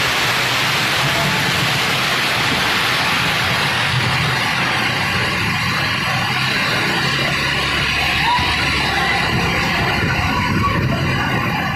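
Heavy storm rain and gusting wind during a cyclone in Jacmel, Haiti, roar as a dense, steady wash of noise that stays loud and unbroken throughout, with no voices over it.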